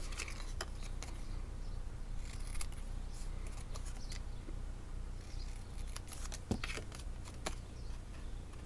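Scissors snip along dashed lines on paper for album binding, giving a faint run of small crisp cuts in quick, uneven bursts against a quiet room.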